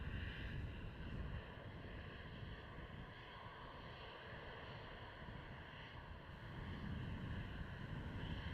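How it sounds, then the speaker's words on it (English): Strong wind gusting steadily at the Schiphol Airport runway 36L line-up at night, a constant loud rushing roar buffeting the microphone throughout, with a low hum underneath. "Oh man, that wind is unbelievable."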